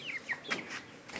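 Chickens kept in a low-cost farm shed clucking softly, a few faint scattered calls at moderate distance with no one talking.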